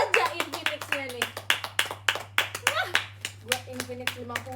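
A run of sharp hand claps in an uneven rhythm, some close together and some spaced, heard under excited speech.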